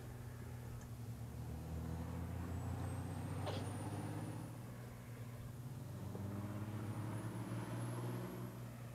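A truck in Farming Simulator 19 rumbles at a steady idle, with a short sharp hiss of the air brake partway through and a faint high whine rising twice. No one speaks over it.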